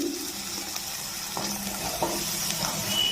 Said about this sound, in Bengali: এখন ফুলকপি আর আলু দিয়ে দিচ্ছি